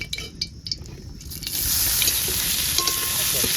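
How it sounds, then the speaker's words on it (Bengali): Boiled vegetables frying in pure ghee for fried rice give a steady, close sizzle that swells loud after a brief stretch of quieter stirring and a few utensil clinks. "পুরো পিওর ঘিতে সবজিগুলো ভাজছে।"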